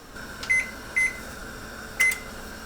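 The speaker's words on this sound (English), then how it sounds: "let's go over to the stove so I can light the oven" An oven on a kitchen stove is switched on for baking a chocolate cheesecake, and its control panel gives three short electronic beeps over a faint steady hum, with no talking.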